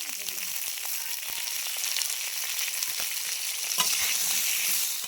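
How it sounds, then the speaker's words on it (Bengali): Potato and pointed gourd fry in a pan with a dense, steady sizzle and light crackle, joined by occasional stirring scrapes, close and even throughout. "এবারে আলু পটলটা ভেজে নিব"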